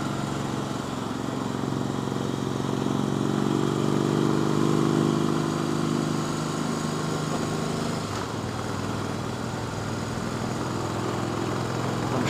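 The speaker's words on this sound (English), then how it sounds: "all these splendid people in all these wee houses love the sound of a Harley-Davidson at night, shattering their peace and quiet" A Harley-Davidson motorcycle engine drones at night in a continuous, loud, rumbling run with a slight swell and dip in pitch.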